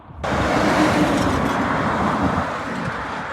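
Audi RS6 C7 driving past, a broad roaring whoosh that rises abruptly and stays loud before easing slightly, with no talk.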